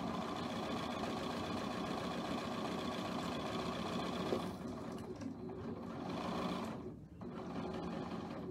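A sewing machine runs steadily while stitching a quilt square in a square-in-a-square block, with a continuous close mechanical whir that eases briefly twice near the end.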